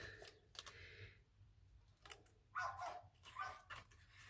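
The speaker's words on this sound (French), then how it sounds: "il y a un chien qui aboie dehors" A dog barks outside, heard through an open roof window: several short, distant yaps in separate bursts over quiet room tone.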